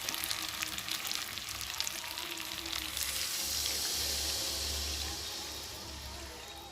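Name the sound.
chicken in masala frying in oil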